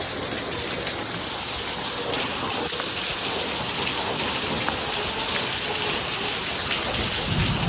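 Heavy night rain pours steadily with rumbling thunder underneath, a dense, unbroken wash of falling water that stays loud and even from start to finish.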